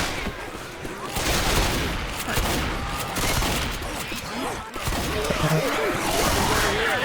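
Dense, steady gunfire fills a Left 4 Dead 2 firefight, with overlapping shots and bursts running almost continuously at close range, plus a brief dip near the middle.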